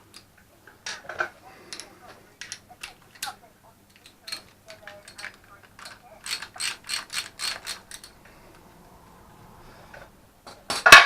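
A ratchet clicks in quick bursts as a bolt is tightened on a Land Rover 200tdi, the rapid pawl ticks coming in several separate runs with short pauses between them, and a brief murmur of voice appears partway through.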